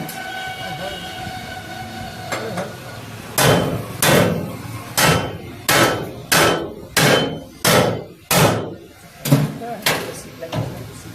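Heavy hammer blows strike the bent handle of an e-rickshaw (toto), about a dozen loud, close metallic hits in a steady rhythm after a few quieter taps, with people talking underneath.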